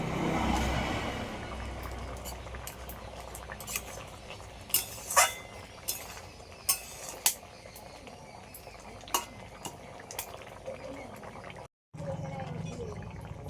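Boiled potatoes mashed and stirred into a fish roe curry in a pot, with a series of sharp spoon clinks and scrapes against the pot over a low background hum and a little faint talk.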